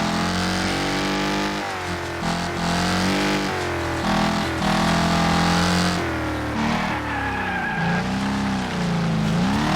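Racing cars in the video game Wreckfest roar continuously through a slalom course, engines revving up and down with repeated tire skids and squeals, loud and close throughout.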